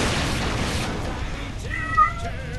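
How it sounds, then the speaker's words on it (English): A deaf cat meows briefly over a noisy background rumble, the short whiny call standing out near the end. "That's my deaf cat. That's why he meows like that."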